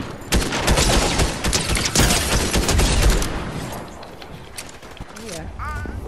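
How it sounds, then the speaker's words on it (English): Video game gunfire bursts rapidly and loudly in the first half, a dense spray of shots that then thins into scattered pops, with a voice talking over the action near the end. "somebody's shooting at me."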